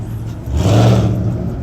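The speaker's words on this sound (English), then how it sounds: "that's T Grizzly doing burnout" A car doing a burnout at a car meet in a Steak N' Shake lot, its engine revving loud and close as the roar swells and holds steady with a rough low rumble.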